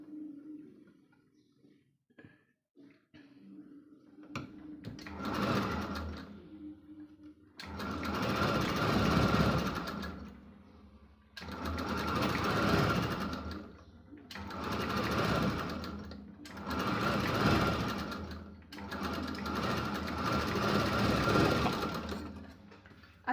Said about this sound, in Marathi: आता आपल्याला इथं पहिल्यांदा गळा शिवून घ्यायचा आहे याचा।